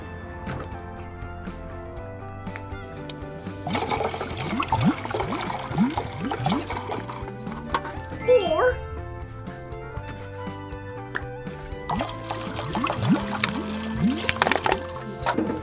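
Water poured into a container at a popsicle shop, a trickling, splashing stream in several bursts over a background of music.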